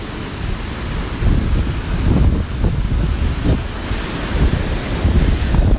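Storm surge waves from Hurricane Dorian pound onto King and Prince Beach on St. Simons. A loud, continuous roar of surf is thick with heavy wind buffeting the microphone, and there are no voices.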